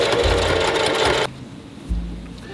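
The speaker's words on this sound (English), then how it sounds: "as long as I'm holding it, it'll push the fabric the opposite direction while I sew" A sewing machine stitches fabric in reverse while the material is held back, running loud and steady at first, then dropping to a quieter hum before a brief low whir returns near the end.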